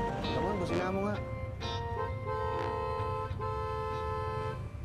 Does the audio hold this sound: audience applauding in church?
no